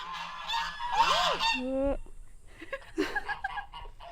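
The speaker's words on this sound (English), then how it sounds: "We're also going to have a few cuts here with the geese and other animals making noise too." Geese honk loudly close by, several nasal calls overlapping and rising and falling, followed by scattered softer honks and some light background noise.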